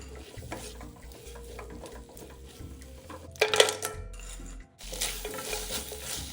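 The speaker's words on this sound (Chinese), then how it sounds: "直接倒入， 快炒拌匀，再撒入几颗腰豆" Wok stir-frying of a taro ring filling after a cornstarch slurry is poured in, with kidney beans added: scraping and clattering spatula strokes against the pan, a brief louder clatter midway, steady gentle sizzle, no talking.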